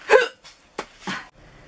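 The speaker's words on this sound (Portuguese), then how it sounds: "Ai, gente, não tô aguentando esse soluço." Hiccups from a woman getting ready for a 60s and 70s themed party, a few sharp, close, abrupt hiccup sounds in quick succession with brief pauses between them.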